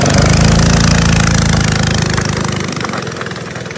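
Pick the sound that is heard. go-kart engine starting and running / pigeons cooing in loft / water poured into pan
go-kart engine starting and running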